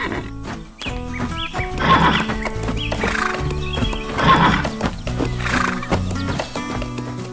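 A brown horse in a cartoon farm scene whinnies loudly again and again over steady clip-clopping hooves, with light music playing underneath.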